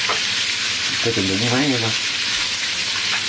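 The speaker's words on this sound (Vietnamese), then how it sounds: "Hiện tại mình thì đang chiên cua" Crab fries in a hot pan with loud, steady sizzling and crackling up close, while a person speaks briefly over it.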